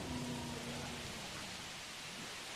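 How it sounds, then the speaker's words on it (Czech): Steady rainfall in the dinosaur park game Jurassic World: Evolution, a dense continuous hiss of rain throughout, with a faint tonal hum early on and no talking. "To ale jak teďko prší, jak to vypadá fakt nádherně"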